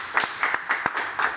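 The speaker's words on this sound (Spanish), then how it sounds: "Un aplauso para Ricardo Bedoya." A small television studio audience applauds in a thin, uneven patter of separate claps, moderately loud and short, with a few sharper hand strikes standing out.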